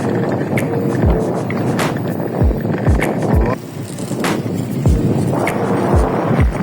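An electric bike rides at speed along a road at about 29 km/h, with loud rushing wind noise over the microphone and repeated low thumps from bumps in the surface.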